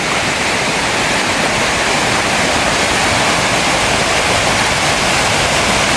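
Water gushes from a storm-damaged reservoir at Iranamadu tank, a loud, steady roar of rushing water that continues unbroken throughout, close and dominant with no voices.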